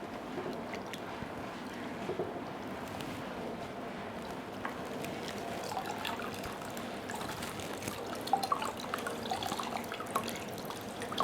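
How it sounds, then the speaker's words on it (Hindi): Cold water from a fridge bottle soaking a cloth bandage about 8 inches wide and 3 meters long, a faint steady trickle with soft drips and wet squelches, close and quiet with no speech. "इस पर पट्टी को पूरा गीला कर लेंगे।"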